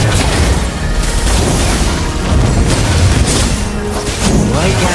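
Valir's Lava Burst from Mobile Legends: Bang Bang sets off a dense, continuous roar of fiery blasts and crashing booms, loud and sustained throughout with layered game effects and no pause.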